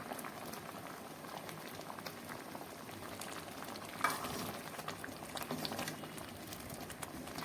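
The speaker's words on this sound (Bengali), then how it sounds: "আদা বাটা দিয়ে একটু নাড়াচাড়া করে নেব।" A quiet, steady sizzle and bubbling of bamboo shoot curry with ginger paste in a pan, with faint scraping from stirring and a small knock midway, continuing evenly throughout.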